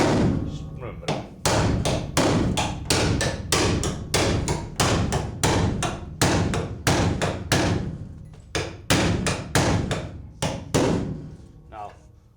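Heavy hammer blows pound metal on a Trans Am torque box, about two dozen loud, close, ringing strikes in a steady rhythm with only brief pauses between them.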